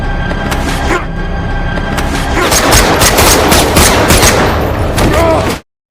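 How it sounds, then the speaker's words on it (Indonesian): A close-range shootout in an action film, with dense overlapping gunfire and rapid bursts sustained at high volume for several seconds before cutting off abruptly into silence. "Dengan cepat terjadi tembak-menembak Zurab dan Nick jarak dekat."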